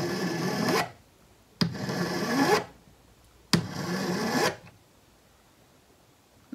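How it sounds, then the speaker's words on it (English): Hand file rasping across the end of a small silver wire held in a bench pin, three separate long strokes with short pauses between, close and clear, no talk. "this little piece of wire that I've got, I'm going to file the end flat"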